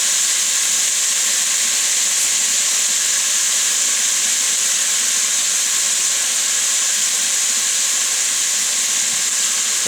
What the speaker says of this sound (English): But I like to cut my onions, or cut them pretty small, and then cook them along with the bacon.